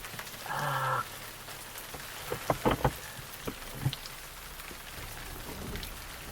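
Steady rain hisses on a surface close by, a broad wash broken by a few louder drips and knocks, with a brief tonal burst near the start and no talk.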